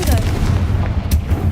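A Confringo blast spell goes off in a Harry Potter video game, heavy booming bursts with a low rumble, loud and close.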